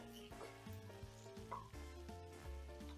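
About 250 grams of chicken frying in a pan for Goan thecha chicken, a steady close sizzle with occasional stirring scrapes and clinks throughout.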